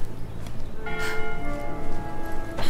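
A bell rings in a bell tower in the video game Bramble: The Mountain King. Resonant metallic tones sound up close, with a fresh strike about one second in and another near the end, each blooming over the lingering hum.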